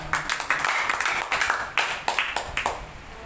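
A worship service congregation claps in quick, uneven bursts of sharp hand claps, fairly close and moderately loud, in a short round of applause.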